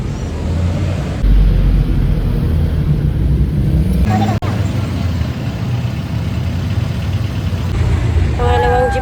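A jeepney's engine idles steadily with a low, continuous rumble, steady traffic noise around it, and brief speech and a horn-like tone near the end.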